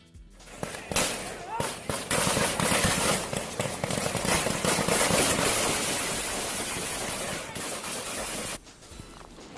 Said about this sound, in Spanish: hubo disparos de lado y lado de la fuerza pública y de un grupo desconocido